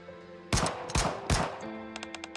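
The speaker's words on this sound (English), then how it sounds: "Suddenly, gun sound, gunshots ring out." Gunfire in the video game Nikke: three loud, sharp gunshot bursts in quick succession, followed by a rapid string of five fainter clicking shots over a low tonal background hum.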